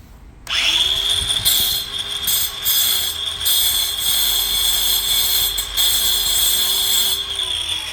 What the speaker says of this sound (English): now try to grind the rust off of it